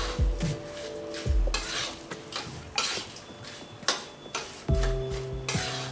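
A ladoo mixture of roasted flour, broken gond and chopped almonds is stirred in a heavy-bottomed kadhai, with close, repeated scraping strokes and light sizzling that come in uneven bursts, with no voices.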